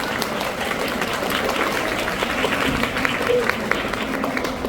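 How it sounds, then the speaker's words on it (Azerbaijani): An audience at a young-talent festival concert claps steadily and densely throughout, a sustained, even patter of many hands with faint speech mixed underneath. "Alqışlayaq."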